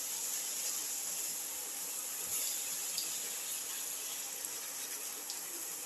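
Milk pours steadily into a pan of cumin rice flake mixture, a soft continuous liquid hiss and trickle heard close and fairly quiet, with no talk.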